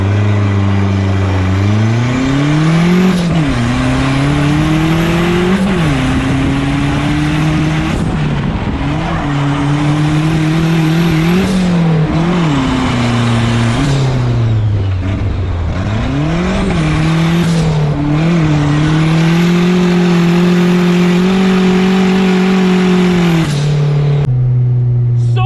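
A Nissan 240SX race car is driven hard around a racetrack, its engine roaring loud and close as it rises and falls through repeated gear changes, with brief lifts and tire noise.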